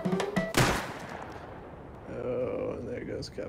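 Gunfire in the survival game Rust aimed at a base turret: a sharp burst of shots early on, then a sustained rumble with tonal in-game sounds and a voice talking over it.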